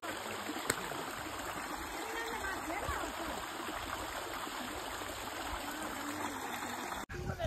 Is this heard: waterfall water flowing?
yes